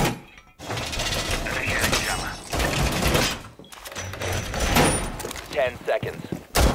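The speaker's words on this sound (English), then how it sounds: "Reinforcing the wall!" A wall being reinforced in Rainbow Six Siege, with loud metallic clanking, scraping and ratcheting in long bursts separated by brief gaps, mixed with some sharp impacts and spoken voice lines.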